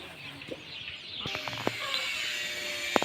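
A chicken clucks a few short times nearby, ending with a sharper squawk, against a quiet outdoor background.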